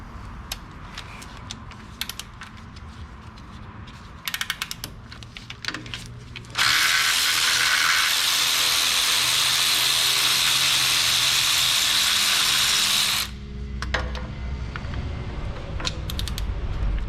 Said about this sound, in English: Give myself my electric ratchet right here and put a 12-inch extension